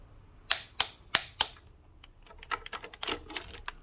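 Torque wrench tightening the intake manifold bolts to 20 Nm on a VW Polo, giving four sharp, evenly spaced clicks followed by a quicker run of lighter clicks and rattles, close and alone.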